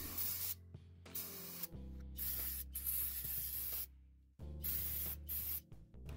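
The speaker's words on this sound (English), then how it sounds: "Now I will go ahead and spray the engine again with cleaner" Engine cleaner sprayed onto a Ford 3.5/3.7-liter V6 engine from an aerosol can, several loud hissing bursts of varying length separated by short pauses.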